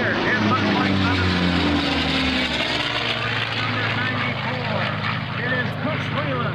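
Racing airplanes at an air racing demonstration during the 2003 Vectren Dayton Airshow, their engines droning steadily and loudly throughout, with a crowd or announcer voice mixed in underneath.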